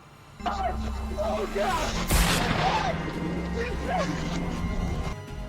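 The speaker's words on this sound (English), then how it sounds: "a gunshot echoed, and a cloud of white smoke rose" A gunshot fired at a charging Bigfoot, a single sharp loud crack in the middle with a brief echo, heard under continuous narration and background music.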